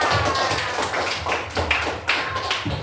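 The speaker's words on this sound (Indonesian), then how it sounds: "kasih tepuk tangan untuk kelompok yang di depan" A classroom audience claps for the group standing at the front, a steady patter of many hands applauding with no talking.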